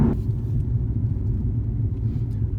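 A 2010 Nissan 370Z Touring's naturally aspirated engine pulls in third gear, producing a steady, deep, droning rumble from inside the car, with no break or gear change.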